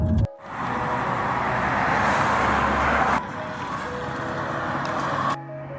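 A BMW 318i drives along on a test drive after a serpentine belt replacement, with a steady engine and road hum heard from inside the car, loud and continuous, briefly easing before ending.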